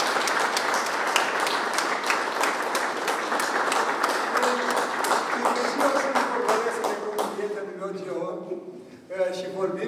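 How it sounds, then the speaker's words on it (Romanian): Applause at a general assembly honoring the cult of heroes in Bacău, a steady dense wash of clapping at close range that thins and fades toward the end as a voice begins. "Aplauze!"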